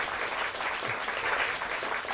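An audience in a hall claps steadily and evenly for a contestant at the 2014 BOSL Mad About Math Championship, a dense sustained round of applause with no voices on top.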